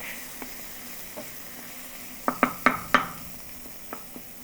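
Garlic fries in a pan with a light background sizzle, punctuated by a quick cluster of sharp utensil clicks against the pan midway and a few softer taps around it.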